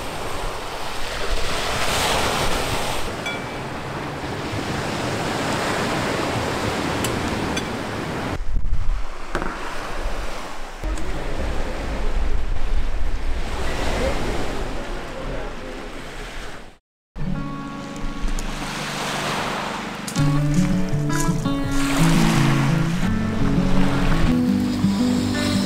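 Steady wind gusting across a beach in Greece in mid-afternoon, with surf and wind noise buffeting the microphone, continuous and loud, broken by a brief dropout partway through.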